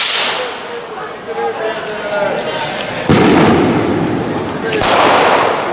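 Fireworks set off in a busy shopping street, with dense crackling bursts and sharp bangs that swell loudly around the middle and again near the end over a steady noisy crowd background.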